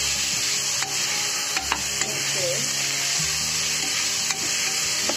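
Three onions frying with ginger garlic paste and a kilo of chicken in a home kitchen: a loud, constant sizzle with a few sharp utensil knocks against the pan and a low hum underneath.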